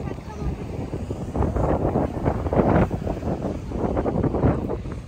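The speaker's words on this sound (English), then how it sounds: "It's a windy day." Gusty wind blows across the microphone on a windy beach day, rising and falling in uneven bursts while a person talks over it.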